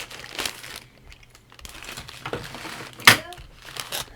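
Packaging crinkles and rustles in bursts as a parcel is opened, with a sharper tearing crackle near the end, close and fairly loud.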